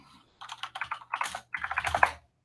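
Typing on a computer keyboard, with quick, close clatters of keys in three bursts separated by short pauses, heard alone with no talk.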